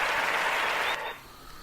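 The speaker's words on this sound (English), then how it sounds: "Clap your hands." Audience clapping, a dense burst of applause that holds steady for about a second and then drops off sharply into a quieter tail.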